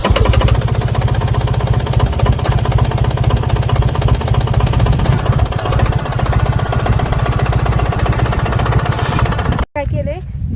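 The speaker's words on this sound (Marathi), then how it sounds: "मी आधी ट्रॅक्टर साईडला घेते." A tractor engine runs steadily on a farm while the tractor is moved aside, giving a close, loud, rhythmic diesel chugging that continues throughout and cuts out briefly near the end.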